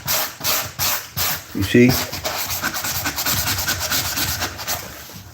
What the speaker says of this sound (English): If I hit it with some sandpaper